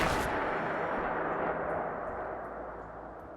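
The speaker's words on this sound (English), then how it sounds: "right here we have the double barrel shotgun being used as a boomstick" A double-barrel shotgun fires in Fallout 4, one loud booming blast at the start that rolls into a long, dense rumbling decay, with no voices.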